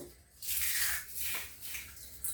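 Crisp fried papad is crumbled and mixed by hand in a bowl, giving bursts of dry crackling and rustling friction that rise and fall in short waves.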